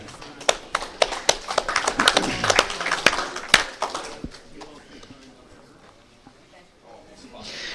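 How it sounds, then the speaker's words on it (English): Scattered audience applause for a pool player at an artistic pool championship, sharp individual claps that taper off into quieter room noise, with talk underneath. "How about a round of applause for Brian on his second try here?"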